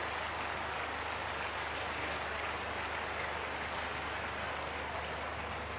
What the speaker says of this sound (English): The effort gets a big round of applause from the crowd.